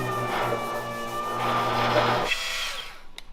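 A dual action sander works over welded metal parts on a car build, a steady whirring buzz with a sustained hum that runs for about two seconds before cutting off and winding down.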